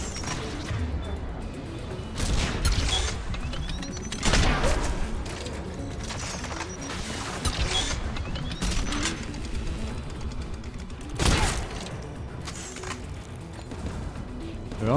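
Turret gunfire in the video game Mass Effect, bursts of rapid shots and heavy impacts spread through the scene, loud and dense, with voices talking over the combat.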